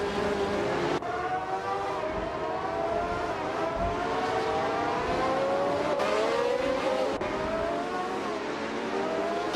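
Several race car engines whine and rise through gear changes together at the start of a race in a racing video game, a steady, loud drone of revving with no talking.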